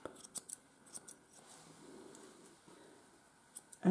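Scissors trimming the leg and foot fur of a Miniature Schnauzer during grooming, giving faint, scattered snips at an irregular rhythm, close by and quiet, with no talk.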